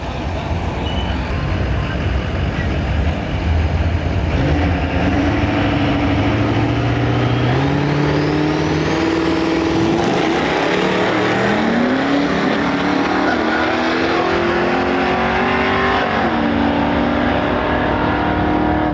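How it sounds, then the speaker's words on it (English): Chevrolet Nova with a Duramax diesel swap making a drag run at Rimbey, Alberta, a loud sustained engine roar that climbs through the gears in rising sweeps, with whining pitch up high. "Nice run number 1 here at Rimbey with 741 with the Duramax Nova."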